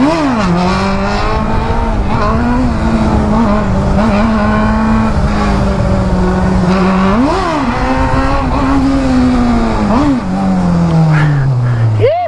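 A Honda Hornet motorcycle revs hard nearby, its engine pitch climbing and falling in repeated throttle blips over a loud continuous drone, ending in a dropping tone, with people talking beside it.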